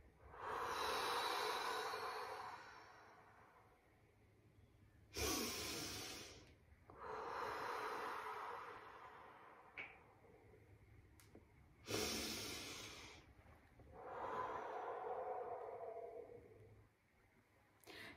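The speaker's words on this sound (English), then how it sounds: "Take a deep breath in, breathe out as you grow." Slow deep breathing during a children's circle-time exercise: long airy inhales and exhales in repeated cycles, with a few sharp sniffing intakes, close and alone.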